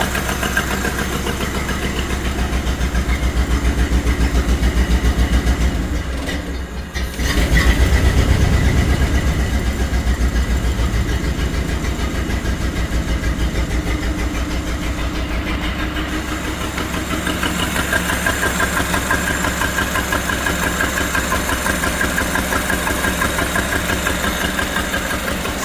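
1930 Ford Model A Roadster Deluxe with a rebuilt four-cylinder engine idling steadily close by for the whole stretch, with a brief lift in the rumble near the middle and no talk.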